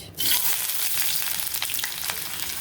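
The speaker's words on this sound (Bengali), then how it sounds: "কড়াইতে তেল দিয়ে দিয়েছি এখন এর মধ্যে দিব হলো পেঁয়াজ" Onions dropped into hot oil in a wok burst into a loud, continuous close sizzle with faint crackles throughout, and no one speaks.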